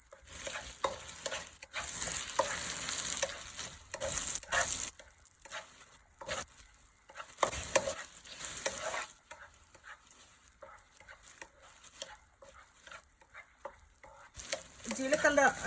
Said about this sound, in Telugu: ఈ పచ్చిమిర్చి ఫ్రై అయిన తర్వాత 2 స్పూన్స్ జీలకర్ర వేసుకొని ఫ్రై చేసుకోవాలి.